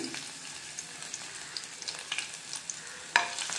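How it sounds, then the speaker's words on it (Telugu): Ginger and garlic frying in hot oil in a pan, a constant crackling sizzle with scattered pops and a sharp metallic scrape near the end, heard close and without speech. "కొద్దిగా ఇలా ఫ్రై చేసుకోవాలి."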